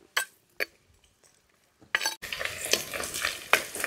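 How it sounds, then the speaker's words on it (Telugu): Sliced onions and green chillies drop into heated oil for a chicken and greens curry: a few sharp utensil clinks come first, then a bright, crackling fry bursts in and keeps going with small spikes of spatter. "ఆయిల్ వేడెక్కిందండి, పెద్ద ఉల్లిపాయలు పచ్చిమిరపకాయలు వేసేసుకుంటున్నానండి"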